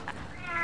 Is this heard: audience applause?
no